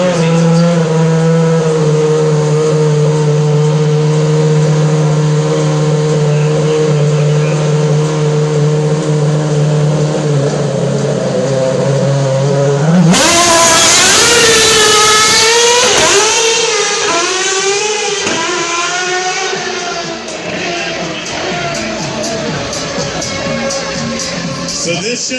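A Red Bull Racing RB7 Formula 1 car driven through a downtown Austin street demo: a steady high engine whine holds, then a sudden loud screaming surge as it blasts past close by, with rapid rising and falling revs fading away.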